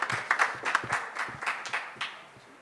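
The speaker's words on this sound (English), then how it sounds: "A big round of applause for Dr. Rani and supporting and building it up" Audience at a women's empowerment event in Bangkok claps in a loose, scattered burst, a handful of distinct claps standing out before fading toward the end.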